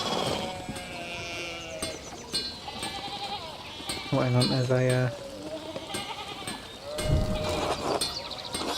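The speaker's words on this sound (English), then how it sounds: "Sort these sheep out, will ya?" Sheep bleat in the medieval video game Pentiment, harmonic cries rising through a busy game soundscape with background music, while someone talks over them in places.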